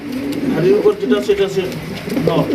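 Pigeons cooing close by in a pigeon market setting with people talking over them, soft repeated throaty coos in short phrases.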